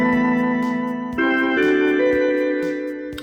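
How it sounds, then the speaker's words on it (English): Electric Wurlitzer organ from 1958 in a home studio, holding steady sustained chords close and loud, changing pitch twice with a bright, buzzy reedy tone. "an electric Wurlitzer organ from, I believe, I think the year's 1958."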